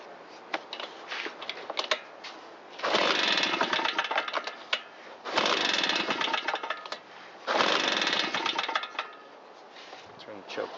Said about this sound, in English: So we'll turn the ignition on, give it some choke.